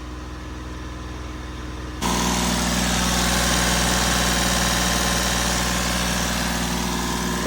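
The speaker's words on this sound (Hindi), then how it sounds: "तो इंजन को रन कर रहे हैं" Mahindra Bolero Power Plus engine idling with its radiator fan disconnected, a steady close rumble that steps up abruptly in loudness about two seconds in and then holds an even, droning hum without any talk.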